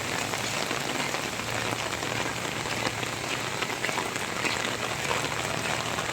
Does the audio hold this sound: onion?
no